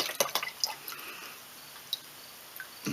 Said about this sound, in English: I'm going to shake it off a little over the bucket.